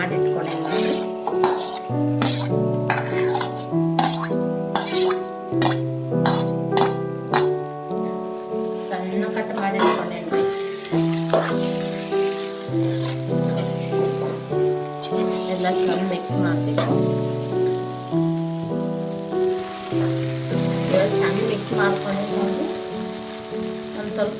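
Peeled potatoes fry in a pan with turmeric, a steady sizzle under repeated metal scraping and clanking as they are stirred, and a voice speaks through much of it.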